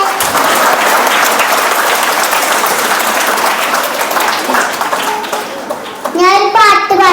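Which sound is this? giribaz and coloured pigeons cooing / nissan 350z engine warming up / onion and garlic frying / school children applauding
school children applauding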